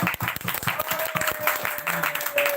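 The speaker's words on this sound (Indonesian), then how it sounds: "Tepuk tangan buat Kecot" Applause for a slingshot community during a live-streamed evening talk show, a steady patter of many hands clapping with voices speaking over it and a faint tone running underneath.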